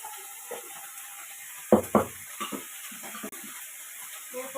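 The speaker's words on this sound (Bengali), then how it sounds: "এরপর আমি বেগুনগুলো তেলের মধ্যে দিয়ে" Eggplant pieces sizzle and crackle in hot oil in a pan, a soft steady fry with a couple of sharper stirring clacks and scrapes of the utensil, faint and close.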